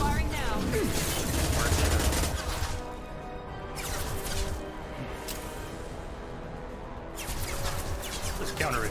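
Gunfire in the video game Mass Effect 2, dense rapid volleys and crashing impacts in a loud, steady battle mix.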